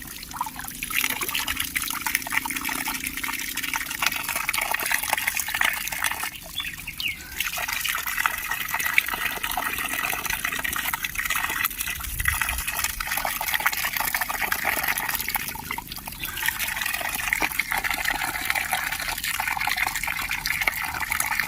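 Water gushes steadily from a pipe on a farm and splashes against a cupped hand, a continuous rushing spatter lasting throughout, with a few brief changes in the flow.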